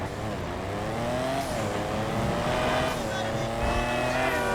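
An HSW car in GTA 5 Online roars continuously as its engine revs and climbs in pitch, loud and close, with tire noise mixed in and a voice briefly talking over it.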